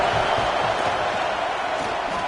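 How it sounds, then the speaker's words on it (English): A football stadium crowd at a Florida vs Arkansas game roars as one continuous, loud, dense wash of cheering and noise. "This crowd bringing the energy and noise early."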